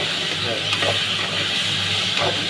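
Pork chilli roasts in a pan with seasoning powder, hissing and sizzling steadily up close while a utensil stirs and scrapes through it.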